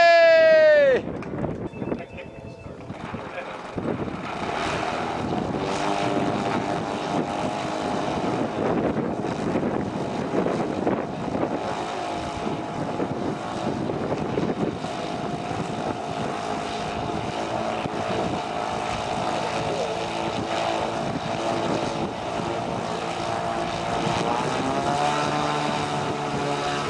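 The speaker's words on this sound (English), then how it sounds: "ton, 17 years old, from Boca Raton, Florida, flying Fatava equipment and SD models Yak 54" Giant RC model airplane, an SD Models Yak 54 on Futaba equipment, flying freestyle at a national contest, its propeller engine droning loudly and steadily with rising and falling pitch, while crowd noise and talk sit underneath.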